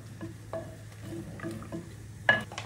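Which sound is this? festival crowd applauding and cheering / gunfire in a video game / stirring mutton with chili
stirring mutton with chili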